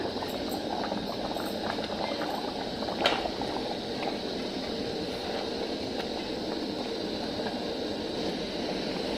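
Mutton gravy simmers on a stove in a pot, giving a continuous dense bubbling and hissing that stays close and steady throughout, with no talking.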